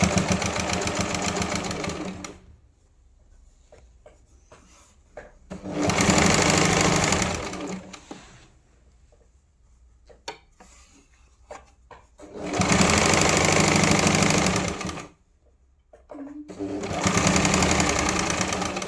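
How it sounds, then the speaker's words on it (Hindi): A sewing machine stitches along the edge of a blouse hook strip in three or four loud, steady bursts of rapid rattling whirr, separated by quiet pauses with soft handling clicks, close by. "पहले तो हम किनारी पे दबाव की सिलाई लगाएंगे"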